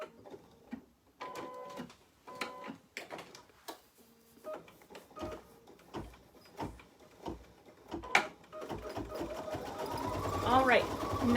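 An embroidery machine stitching out a Happy Halloween design: a rhythmic run of mechanical clacks and whirs in repeated bursts, moderately close, rising into a steadier hum at the end while a person talks faintly.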